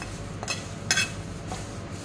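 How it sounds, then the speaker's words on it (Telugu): Tamarind leaves fry slowly in a pan over a low flame, with a soft, steady sizzle and a few light scrapes of a stirring spoon against the pan; quiet and close, with no talking. "సిమ్లో పెట్టుకొని నెమ్మదిగా ఇలా ఫ్రై చేసుకోవాలి."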